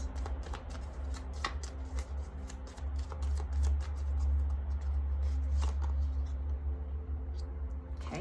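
Tarot cards being shuffled and drawn for a candle wax reading, a steady run of soft papery riffles and flicks close to the microphone over a low hum, with no voices.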